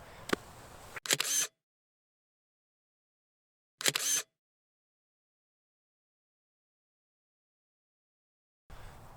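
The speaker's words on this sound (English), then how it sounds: "I'm going to take another photo" Camera shutter firing while photographing through a screw-on neutral density filter, heard as a few short sharp mechanical clicks separated by silence, close and clear.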